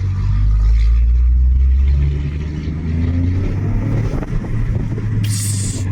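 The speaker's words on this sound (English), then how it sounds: "you'll hear turbo whistle, and you'll hear the 3-tipped exhaust" A Toyota Corolla GR engine revs hard from inside the car, a loud low rumble rising in pitch through the three-tip exhaust, then easing off with clattering and a brief hissing purge at the end.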